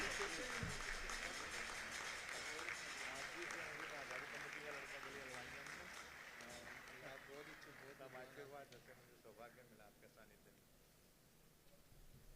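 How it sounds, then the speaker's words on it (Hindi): A crowd applauds at a welcome ceremony held by the Hansi Bar Association for a chief justice: steady, dense clapping that slowly tapers off, with a voice on the public address speaking over it. "जोरदार तालियां इनके लिए।"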